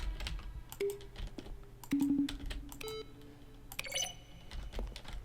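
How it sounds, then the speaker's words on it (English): Button presses from The Stanley Parable, each a keyboard keystroke blended with a short synthesized tone, sounding as a series of separate clicks and beeps spaced irregularly, some with brief sustained pitched tones, fairly quiet and clear with no talking. "A selection of the sounds used throughout the game when buttons are pressed. Each sound is a mix of keyboard stroke and synthesized tone."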